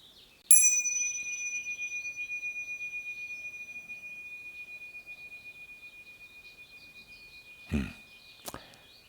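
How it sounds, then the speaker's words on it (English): A single bell rings out with a long, slowly decaying shimmering tone, followed by two sharp strikes near the end. "Just take a moment now to ring the bells."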